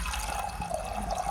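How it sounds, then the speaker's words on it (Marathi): Water poured into a pan to start sugar syrup, a short, close liquid splash and gurgle lasting about a second, heard on its own. "आधी मी पाणी घातले"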